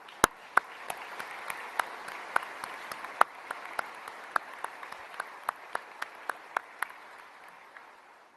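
Applause for Southcom at a military change of command ceremony, a sparse, steady patter of claps from a modest crowd, moderately distant and fading toward the end.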